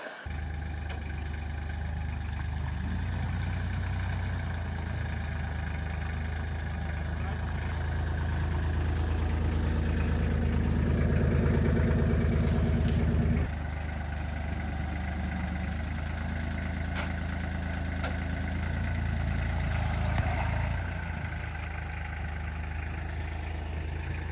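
A steady low tractor engine idles and rumbles throughout, growing slightly louder midway before settling back, with no voices over it.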